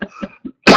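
A person coughs in a series of short, dry bursts, with a couple of quick hacks and then a louder, rougher cough at the end, close and alone.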